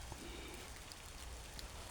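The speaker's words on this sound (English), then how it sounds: "because of how it's raining right now," Rain falls in a steady, dense patter, a broad even wash of drops on surfaces with no pauses, moderately close and fairly quiet.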